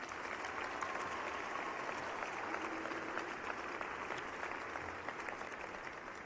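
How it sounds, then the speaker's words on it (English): Graduates at a spring commencement applaud faculty and staff, a soft, distant-sounding wash of steady clapping from a large crowd, even and unbroken throughout. "With a round of applause, please."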